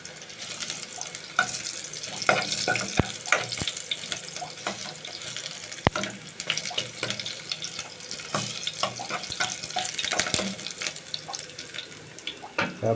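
Food frying in hot cooking oil in a pan, a constant crackling hiss with scattered pops and a few sharp clatters of a utensil, close and without talk.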